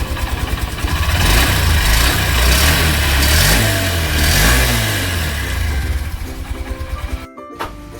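A Honda Shine motorcycle engine runs just after starting, revving up and down in close, loud surges before settling back toward idle and cutting briefly near the end.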